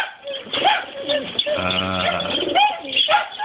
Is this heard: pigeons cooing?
yes